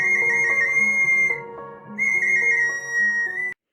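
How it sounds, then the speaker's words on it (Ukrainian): A handmade clay bird whistle blown in two warbling bursts, a shrill trilling tone with a short pause between, close and loud. "Ой, яка гарна пташка свищик у мене вийшла."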